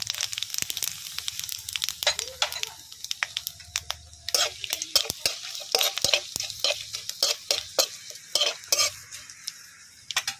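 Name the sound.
whole cumin and whole garam masala added to hot oil, sizzling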